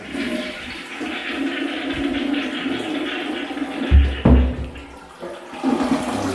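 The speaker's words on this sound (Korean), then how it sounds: "물 한번 내리보고" A toilet flushing in a newly remodeled small bathroom with an artificial marble vanity: a steady rush of water that swells midway, then drains away, close by and with no voices.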